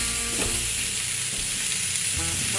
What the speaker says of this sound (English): The onions are caramelizing beautifully